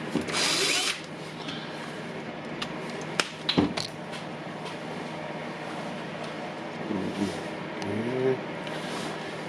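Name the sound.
power screwdriver driving screws into Makita angle grinder housing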